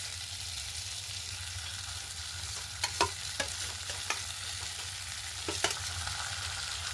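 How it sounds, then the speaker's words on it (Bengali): Boiled fish stir-fried with potatoes sizzles quietly and continuously in a pan, with a few sharp spatula scrapes and knocks near the middle and again toward the end. "মাছগুলো ভালো করে আলুর সাথে কষিয়ে নেব।"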